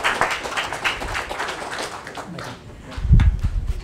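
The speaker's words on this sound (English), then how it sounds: "Let's give another round of applause for Mark." Scattered applause from an audience at an IoT meetup talk, moderate and fairly close, tapering off before a louder thump near the end.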